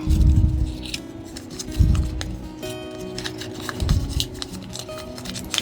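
Cut-out craft paper leaf for fall decor being crumpled by hand, close and fairly quiet, with a few distinct crinkling bursts separated by brief pauses.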